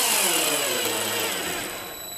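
A power drill drives a screw into the end grain of wood while building a terrarium stand, giving a loud, close, steady motor whine that slowly winds down.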